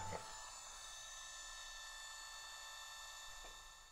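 A 24-volt electric scooter motor spins at its normal speed with a steady, high-pitched whirring drone and faint clicks near the start and end. It is alone and constant, with no talk.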